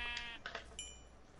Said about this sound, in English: Oh, sheep. Come here, sheep.